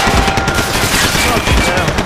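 Rapid automatic gunfire in the Max Payne 3 video game: dense, loud, continuous bursts rattling through the whole moment, close and overwhelming.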